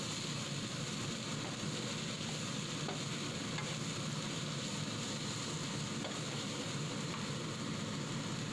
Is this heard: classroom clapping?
no